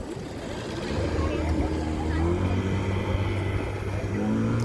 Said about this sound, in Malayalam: അങ്ങനെ സ്പീഡ് ബോട്ട് പോകും